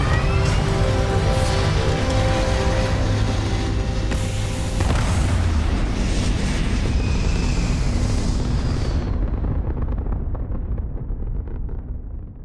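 A spaceship in Starfield lifts off with a loud, sustained rumbling roar that swells into a bright burst, then fades and thins into quiet near the end.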